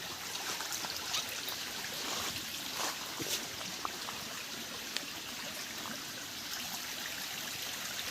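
A mountain spring stream in the hills of Konkan flows in a continuous, even babble of running water, moderately loud and close, with small splashes and no talk.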